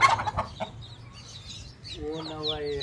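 Aseel chickens cluck and squawk nearby, a few sharp calls at the start followed by softer drawn-out clucking, with faint voices in the background.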